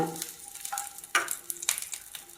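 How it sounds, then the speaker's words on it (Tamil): Onion and garlic fry in a spoonful of hot oil in a kadai for capsicum chutney, a soft steady sizzle with a couple of sharper crackling bursts, fairly quiet and close, no voices. "எண்ணெய் சூடான உடனே வெங்காயத்தை போட்டோம் வெங்காயம் பூண்டு"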